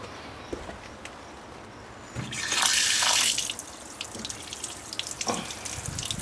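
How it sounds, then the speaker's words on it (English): Water runs from a tap, starting quiet with faint drips, then gushing strongly for about a second before easing to a softer, steady flow. "Good old clean water. You can see it's coming out pretty clean."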